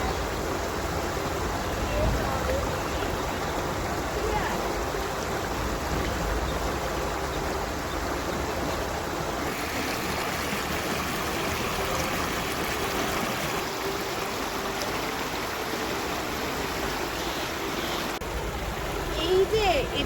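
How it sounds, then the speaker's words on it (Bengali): Steady river current streaming and trickling around someone's feet as they sit in the water, a constant close rushing flow with faint voices underneath. "যেখানে এমন স্রোত বইছে আর চুপ করে বসে থাকা যায় পা ভিজিয়ে"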